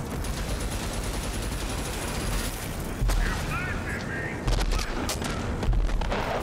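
Gunfire in the shooter game RAGE 2, with a steady wash of rapid shots and heavy impacts under it and louder thumping bursts now and then, running busy and continuous throughout.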